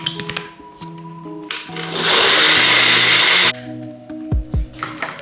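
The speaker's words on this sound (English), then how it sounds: "So then blend it." A kitchen blender whirs loudly for about a second and a half, blending garlic cloves, chicken spices and a little water for a chicken ribs stew. Clicks and handling noises come before the motor starts, and a few thumps follow after it stops.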